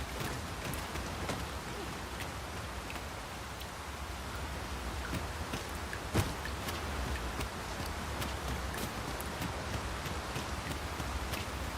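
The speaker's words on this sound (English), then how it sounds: "It is raining most heavily." Heavy rain falling in the Dragon's Dogma 2 video game, a steady, dense hiss of drops with scattered small patters and one brief tap near the middle.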